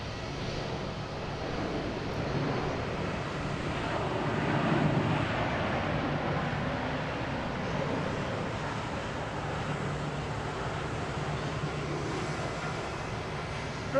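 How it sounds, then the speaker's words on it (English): JetBlue airliner taking off at Boston Logan International Airport, a continuous distant engine rumble and roar with faint wind noise, swelling gently near the middle, no voices. "we have a JetBlue taking off to JFK"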